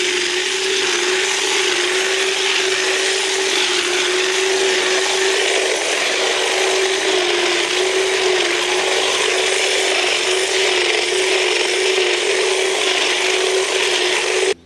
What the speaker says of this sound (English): I'm going to use my hedge trimmer to cut it all down